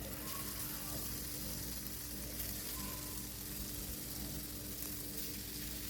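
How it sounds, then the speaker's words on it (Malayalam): Prawns fry in hot coconut oil in a pan, giving a soft, even sizzle that runs faintly and steadily throughout without any talk. "നമുക്ക് ഓരോ ചെമ്മീനായിട്ട് ഇട്ടിട്ട് നമുക്കിത് ഫ്രൈ ചെയ്തെടുക്കാം."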